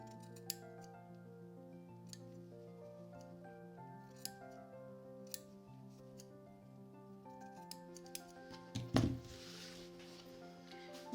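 Scissors snip through fabric for rag doll shoes in a quiet room, with sparse light clicks of the blades. A louder cluster of cuts comes near the end, and nobody speaks.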